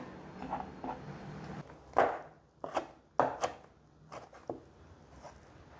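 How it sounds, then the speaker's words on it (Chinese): Knife slicing shiitake mushrooms into strips on a cutting board, a handful of crisp close chops with short pauses between them. "现在继续把这个香菇切条"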